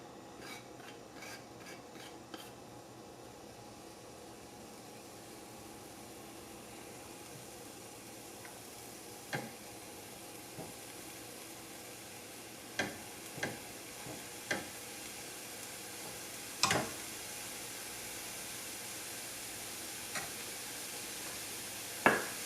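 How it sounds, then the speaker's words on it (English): Chopped spinach sauteing in hot fat in a pan, a faint steady sizzle with occasional sharp clicks and scrapes of a utensil, no talk. "So you're basically getting a little saute on your spinach here."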